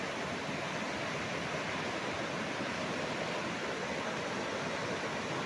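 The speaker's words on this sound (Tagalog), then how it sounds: "Yan ang agos oh" A clear, clean river rushes past a farm in Majayjay, Laguna, a steady broadband roar of flowing current holding evenly throughout with no voices over it.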